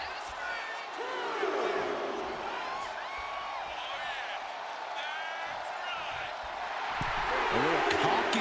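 Arena crowd noise in a wrestling video game featuring CM Punk: a steady, moderately loud roar of cheers and whoops under a commentator's voice.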